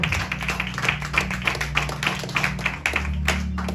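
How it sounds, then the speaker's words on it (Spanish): A church congregation claps during a sermon, brisk rhythmic applause with many hands striking in quick repeated bursts against a low hum. "Démosle ese fuerte aplauso a nuestro Señor."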